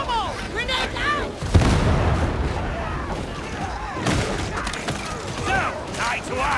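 A grenade going off in Warhammer 40K Darktide, a loud booming blast amid rapid gunfire and chaotic combat noise, with voices shouting over the battle.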